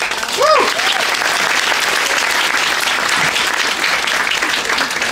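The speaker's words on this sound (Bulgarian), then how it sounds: "Аплодисменти." Steady, dense applause from a crowd, loud and continuous throughout, with a brief voice near the start.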